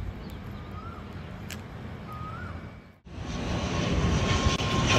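An airplane at Dehradun airport roars loudly and steadily, its engine noise swelling after a brief drop in level, with a few faint bird calls heard beforehand in the outdoor background.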